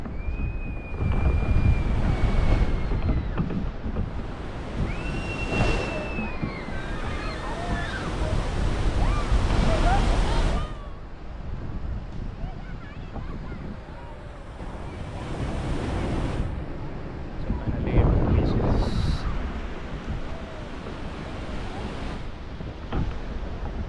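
Ocean waves roll and break steadily on Maravanthe beach in Karnataka, a broad surging wash under gusty wind buffeting the microphone, with voices faintly in the background.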